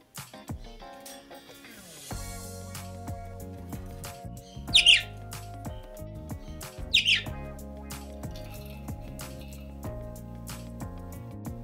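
A rescued bird indoors calls out to other birds in another room, giving two sharp squawks over steady music and background sounds.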